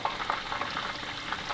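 Chicken wings fry in a pan for Thai tom yum wings as fish sauce goes in, a soft, continuous crackling sizzle with small popping bursts throughout.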